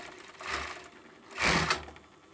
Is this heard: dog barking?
no